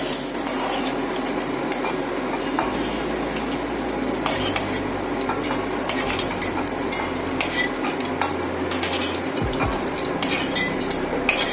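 Fried potatoes are lifted out of hot oil in a pan, with repeated spoon clinks and scrapes against the metal over a steady background sizzle, close and continuous.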